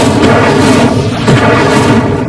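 Incendio fire spell cast in Hogwarts Legacy, a loud whooshing blast that swells twice in quick succession with rumbling low booms and airy roar, close and alone.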